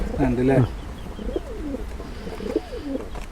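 Pigeons in a loft coo in soft, rolling phrases that repeat a few times at close range, with a voice heard briefly at the start.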